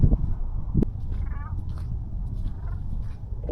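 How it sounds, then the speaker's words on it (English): A cat meows once, faint and brief, outdoors beside a vehicle with a low, steady rumble of background noise underneath. "That was a cat."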